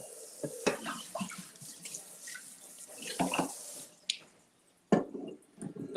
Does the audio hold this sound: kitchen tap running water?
yes